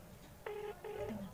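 Telephone busy signal: two short bursts of a steady electronic tone with a pause between, heard over a phone line at moderate level, followed by a lower tone.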